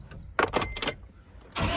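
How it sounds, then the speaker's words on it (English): A car engine cranks and fires, with short bursts of starter noise followed by the engine catching into a steady running roar near the end, close and fairly loud. "once you get the engine started, you just turn this on."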